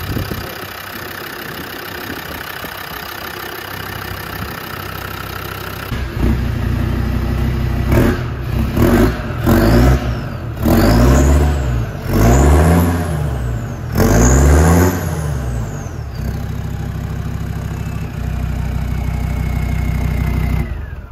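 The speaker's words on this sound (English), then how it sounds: "So that is a really, really nice sounding exhaust." Land Rover Defender 90 engine fitted with a new aftermarket exhaust, idling steadily and then blipped through several sharp revs that rise and fall, loud and close, before settling back to a rumbling idle.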